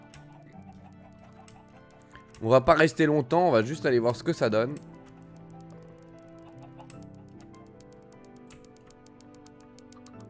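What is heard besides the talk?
chickens clucking in the MultiCraft video game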